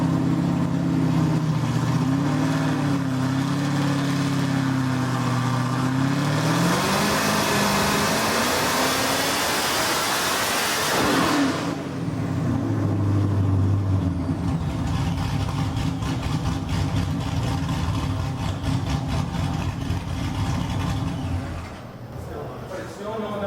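A 1300whp Corvette engine drones loud and steady on a dynojet dyno during a 5th gear pull, the pitch climbing then holding, with people talking over it.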